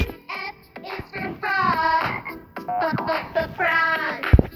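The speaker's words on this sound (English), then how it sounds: "frog. Frog." A frog croaks in a series of several drawn-out, rasping calls, one after another, loud and close with short gaps between them.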